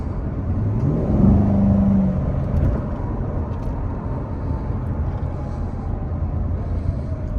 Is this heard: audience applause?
no